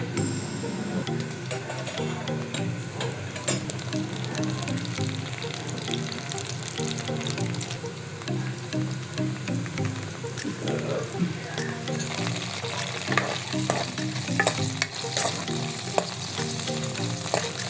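Green chillies sizzle steadily in a hot pan for a chutney, with a continuous frying hiss broken by scraping stir strokes and clinks that grow busier toward the end; no one speaks.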